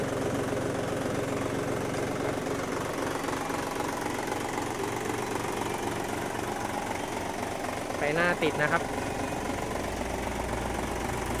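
Steady low rumble of an idling tractor engine throughout, close and constant, with someone speaking briefly over it near the end.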